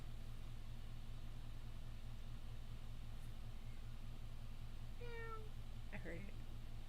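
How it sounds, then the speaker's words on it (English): A pet cat named Taco gives a short meow, then a second brief call a moment later, faint against a steady low engine-like hum, with a person talking throughout. "Taco's meowing."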